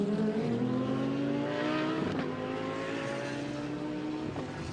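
Audi DTM race car lapping a track during practice at Portimao, its engine droning loud and steady with rising and falling pitch sweeps as it accelerates, with no voices.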